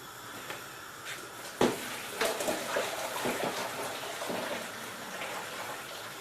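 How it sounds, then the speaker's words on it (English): Water from boiled potatoes pouring off into a sink, a steady gushing rush with a sharp splash early on and uneven surges throughout. "Okay, let me drain them."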